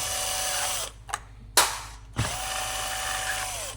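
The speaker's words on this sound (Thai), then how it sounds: "รื้อเครื่อง ก็ถอดน็อตออกมาครับเราจะฝาครอบมีทั้งหมดห้าตัวนะ" Nuts being loosened and removed from a chainsaw engine cover with a hand tool: a few sharp ratcheting clicks and short metallic bursts over a steady background hum, close and moderately loud.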